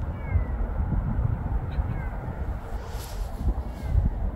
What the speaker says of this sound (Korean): 저놈 야옹야옹만 해